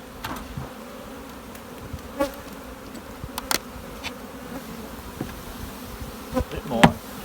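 A constant drone of many honey bees buzzing around an open hive, punctuated by scattered taps and clunks of frames being handled.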